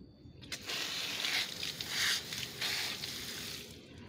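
Water splashes and patters onto a newly grafted Aglaonema Widuri plant, a soft continuous pour lasting a few seconds, fairly quiet and close, starting abruptly and tapering at the end.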